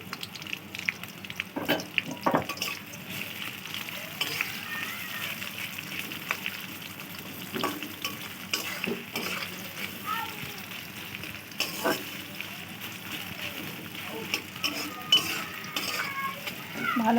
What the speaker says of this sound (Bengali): তারপরে দিয়ে দেবেন বন্ধুরা পেঁয়াজ কুচি দিয়ে দেবেন